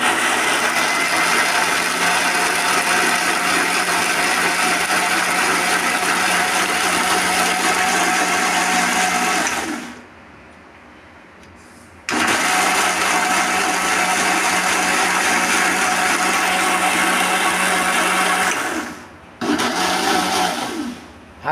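Mixer grinder crushing a tomato, onion and garlic chutney for dosa and idli, a loud steady whirring motor that runs about ten seconds, stops for two, then runs again with another short pause near the end, no talking.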